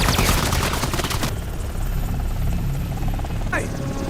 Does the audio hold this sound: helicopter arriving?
yes